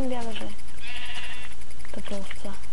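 Minecraft sheep bleats in short nasal bursts, a couple of close calls near the start and later, with someone talking over the game sounds.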